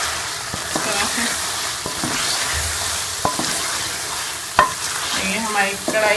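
Chicken karahi sizzles steadily in a pan while being stirred, with sharp scraping clicks of the spoon against the metal scattered over the hiss; no one speaks.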